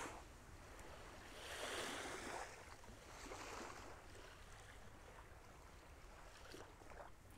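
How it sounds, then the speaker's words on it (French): Gentle ocean waves wash in and recede, soft surges of surf rising and fading at a calm, unhurried pace with no voices. "écouter le doux bruit des vagues"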